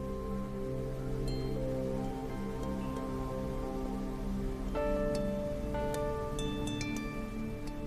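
Gentle rain patters steadily beneath sustained, calm musical tones that shift softly in pitch, with no talking.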